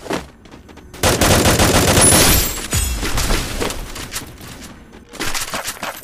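Gunfire in the mobile battle royale game Garena Free Fire: a loud, close burst of rapid automatic shots, then trailing scattered shots and a few more bursts near the end.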